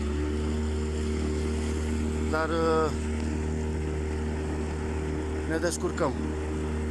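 An overloaded fishing boat's outboard motor drones steadily and loudly at a constant pitch throughout, with people speaking briefly over the engine noise.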